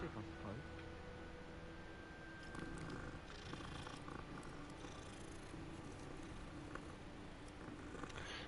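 A cat in the Hogwarts Legacy video game purrs in a low, continuous rumble alongside faint game ambience, with no one speaking over it.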